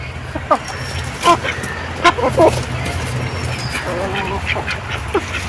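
Ducks quacking in a farmyard where they lay eggs daily, a few short separate calls standing out over a steady, noisy outdoor background.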